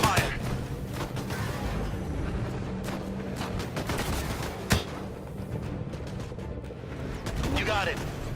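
Gunfire in a video game: scattered bursts and sharp shots crackle through a noisy battle bed, with one loud bang standing out, while voices talk over the action.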